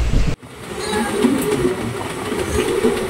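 A passenger train runs steadily on its rails as it enters the Dehri area, with a brief pause, then a continuous rolling rumble and faint clatter close by.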